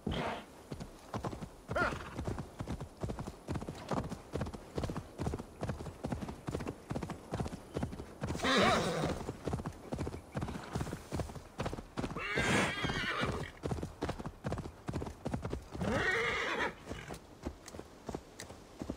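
Horse hooves clip-clop steadily in the Assassin's Creed Valhalla video game, a continuous rhythmic trot with several loud whinnies breaking in, all close and fairly loud with no talking over them.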